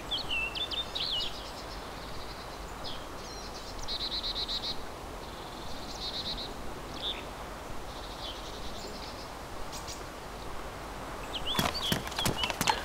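Bird tweeting ambience in the wilderness of the video game DayZ: repeated high chirps and short trills across a steady background hiss, with a brief burst of sharper clicks near the end.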